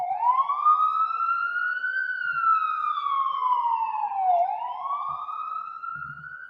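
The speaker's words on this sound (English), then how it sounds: "Let that siren go by." A wailing siren rises and falls in long sweeps as it passes at a moderate distance, with faint low rumbles underneath.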